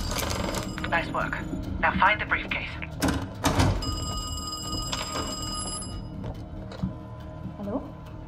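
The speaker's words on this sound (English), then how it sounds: "I'm about to phone Krause's apartment." A phone rings inside the Call of Duty Black Ops Cold War campaign, sustained electronic ringing tones heard over game music and clattering sound effects, with a voice speaking alongside.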